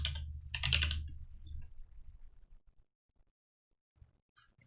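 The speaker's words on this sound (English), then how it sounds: "So if we type in S object" Rapid typing on a computer keyboard: a dense flurry of close keystrokes in two bursts, followed by a few sparse, quieter taps, with no talking.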